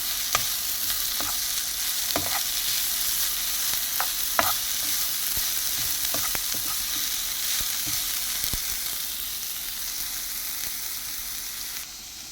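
Sliced capsicum and beef liver stir-fry in a hot pan with a steady loud sizzle, broken by repeated sharp scrapes and clicks of a utensil tossing the food, close up and without talk.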